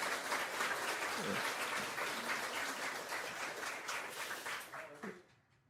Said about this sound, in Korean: 우리 자녀들 큰 박수로 환영해 주시기 바랍니다